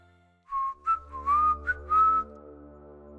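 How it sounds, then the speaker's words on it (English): A single person whistles a short, wavering tune of several notes, clear and close, against a low droning background. "hundreds of whistles answered, one after another, growing louder, getting closer"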